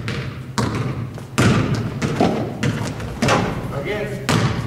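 During a basketball layup drill on an indoor court, a ball thumps against the floor several times in irregular bounces, heard amid echoing gym noise and people talking.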